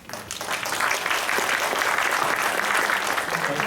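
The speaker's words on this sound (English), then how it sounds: "Let's have a nice round of applause to welcome." Audience applause welcoming the conference chairman at an academic science conference, steady sustained clapping from a sizable crowd lasting the whole stretch at even loudness.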